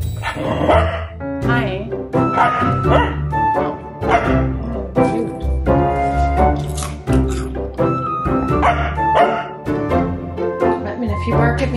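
A dog barking indoors in repeated short yips and barks close by, mixed in with someone talking over the noise throughout.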